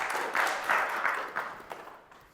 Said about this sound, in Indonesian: Tepuk tangan buat Pak Yusuf.